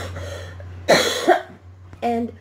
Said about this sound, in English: Forgive me for my coughing.